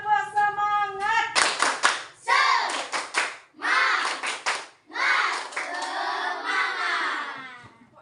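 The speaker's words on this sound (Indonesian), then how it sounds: "Sebelumnya tepuk semangat dulu, tepuk semangat." Children in a primary school classroom in Pesedahan perform the tepuk semangat spirit clap, bursts of rhythmic hand claps mixed with chanted young voices, close and loud across several repeated phrases.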